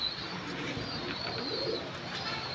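Pigeons coo softly and continuously against a light background hiss, with no other birds or voices standing out.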